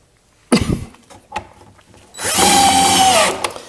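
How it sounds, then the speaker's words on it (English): Clunks and handling noises give way to a cordless drill whirring steadily for over a second as it drives a screw into pine for a garden gate, then winding down. "I got to be careful that I don't drive them through too far."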